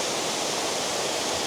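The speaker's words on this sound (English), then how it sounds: "This is one messy waterfall" A messy waterfall pours with a dense, unbroken roar that fills the whole clip at steady loudness, with no voices or other sounds.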